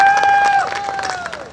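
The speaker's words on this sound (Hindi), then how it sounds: "एक बार और ताली बजा के स्वागत कर दो" Audience applause at a Chhattisgarhi comedy poetry gathering in Bilaspur: a dense, steady patter of many hands clapping, with sustained tones ringing over it and fading toward the end.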